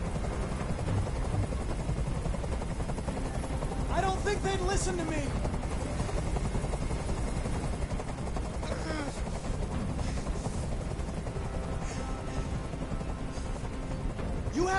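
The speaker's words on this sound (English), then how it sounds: "Tell that helicopter to get out of here!" Helicopter hovering overhead in the video game Detroit: Become Human, a steady loud rotor drone running throughout beneath tense talk and other game sounds.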